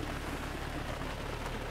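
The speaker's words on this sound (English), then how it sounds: "I guess you can hear and see the rain" Rain falls outdoors around a 2015 Chevy Camaro convertible, a soft continuous patter hissing evenly with no talking.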